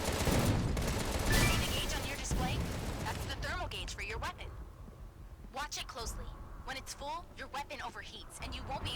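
Rapid gunfire from a remade arcade shooter video game as the player's craft moves, a continuous busy barrage with game effects, under steady talking.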